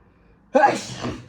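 A single loud sneeze bursts out abruptly after a moment of near silence, close to the listener, trailing off with a breathy tail.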